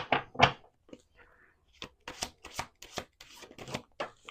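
Tarot cards being shuffled by hand during a card reading, a series of quick papery riffles and slaps, close and fairly quiet, in irregular bursts with short pauses between.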